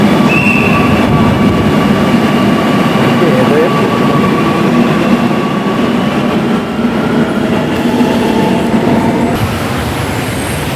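A metro train arriving at an Ernakulam station rumbles loudly and continuously with a steady roar and faint high wheel squeal, heard from close by on the platform.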